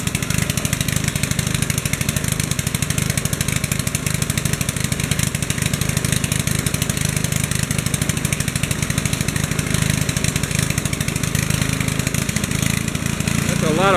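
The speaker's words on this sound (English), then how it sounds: "He puts it in this machine and grinds it." A gasoline engine drives a coconut grinding machine at a street festival in Pavia, Iloilo, Philippines, its loud, steady chugging drone running throughout with a rapid even pulse, while voices talk faintly underneath.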